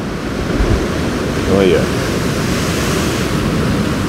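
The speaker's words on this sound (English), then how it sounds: "I get some movement in the surf below me, and I've got the cascading water just running down the wall there as well" Ocean surf below a seaside quarry wall with water cascading down rocks, a steady broad wash of rushing water and wind noise, with a brief voice speaking over it midway.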